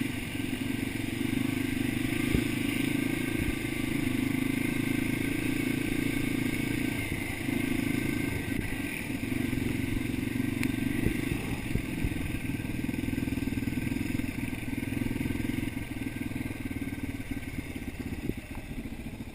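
Motorcycles riding along forest dirt trails, a steady, continuous engine drone with some clatter and rattle, sustained and fairly close throughout with no talk.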